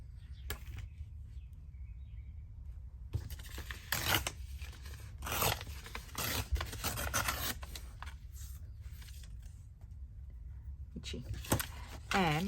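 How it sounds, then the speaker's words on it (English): Paper torn by hand for an antique-style document journal card, heard as a few short rasping rips spread through the clip over a low background hum, with speech in between. "I'm going to tear off a bit of this."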